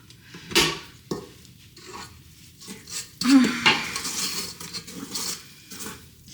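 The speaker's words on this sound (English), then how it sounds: "Give this a little mix." A utensil mixes thick cookie dough in a bowl, producing irregular scraping, dull knocks and clinks against the bowl. The strokes come in uneven bursts at moderate volume, close by.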